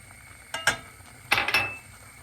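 A spoon scraping and clinking against a pot while flour is stirred into a hot mixture for halka tatlısı, a few brief clattering strokes, nearby and isolated, between quiet gaps.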